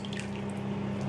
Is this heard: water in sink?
yes